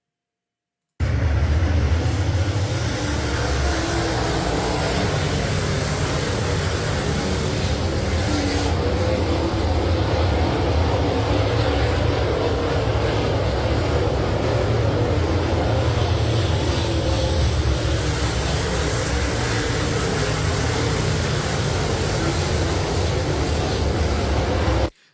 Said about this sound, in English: This is why we love dirt late model racing.